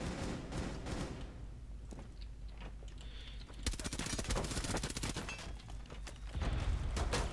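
Gunfire in the video game Rainbow Six Siege, with dense, rapid bursts of shots crackling amid a busy game soundscape, growing more intense partway through.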